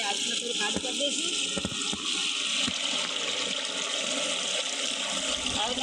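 Water runs in a steady, loud gush while clothes are washed at a tank, with a few sharp knocks and a person talking over it.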